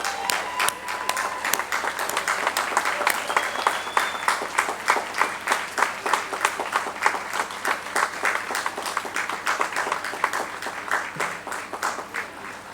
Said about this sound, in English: Congratulations to all of our graduates. Let's give them a big round of applause.